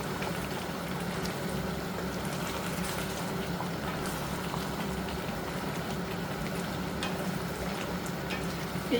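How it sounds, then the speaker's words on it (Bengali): Steady, soft sizzling and bubbling of chicken sautéing in a pan on the stove, continuous and even throughout, with no voices. "এখানে মুরগিটা কষানো হচ্ছে"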